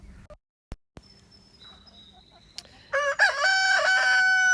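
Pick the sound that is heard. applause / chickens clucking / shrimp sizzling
chickens clucking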